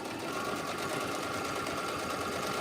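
A sewing machine stitches binding onto a swoon block quilt, a close, steady mechanical whirr of rapid stitching that runs without pause.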